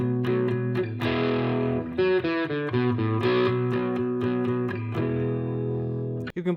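Distorted electric guitar plays the riff from a song with driving downstroked chords and single-note runs, loud and close, ending in a sustained chord that is cut short.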